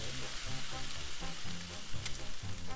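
Bacon sizzling on a griddle in the cooking game Cook, Serve, Delicious!, a steady close frying hiss under game music.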